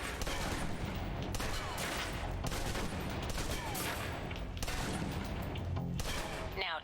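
A submachine gun in the spy game Alpha Protocol empties a full magazine, rapid continuous automatic fire sustained for several seconds with brief gaps between bursts, loud and close.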